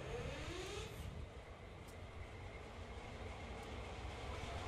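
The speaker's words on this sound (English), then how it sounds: "I would expect it to be making some kind of idle noise" A CSX heavy-haul diesel locomotive in Train Sim World idles with a steady low rumble and a constant engine drone, with no voices over it.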